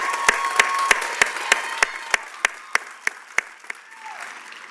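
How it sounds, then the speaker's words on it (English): Commencement audience at Madera Community College applauds, sparse and somewhat distant clapping with a few sharp individual claps standing out in an even beat before it fades. "Could we give her another round of applause?"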